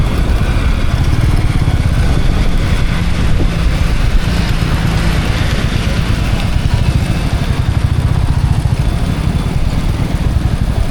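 A Royal Enfield Meteor 350 motorcycle ridden at night, its engine a loud, continuous low rumble mixed with heavy wind roar close to the rider throughout, with no voices.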